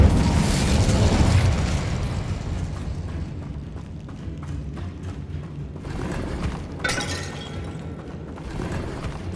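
A fire spell cast in Hogwarts Legacy: a loud whooshing burst of flame opens, then fades into rumbling, crackling fire and mechanical clatter, followed by a second flaring burst later on.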